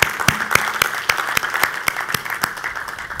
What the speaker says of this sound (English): Let's first clap for them.